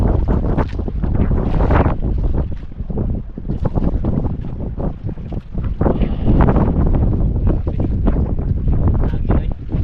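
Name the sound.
strong wind at sea on boat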